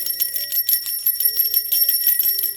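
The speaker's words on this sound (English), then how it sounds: "We're going to do a little simple little bell sound bath in our space here." A small bell rings for a sound-bath cleanse, giving bright, shimmering high tones with repeated light strikes that ring on close and clear.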